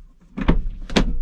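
A car door on a small AZ-1 sports car is opened, giving a few quick mechanical clunks and latch clicks close by.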